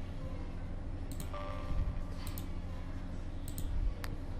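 Sharp computer mouse clicks on a software installer, a few spaced single and double clicks over a low steady hum.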